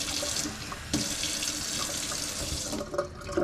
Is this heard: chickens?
no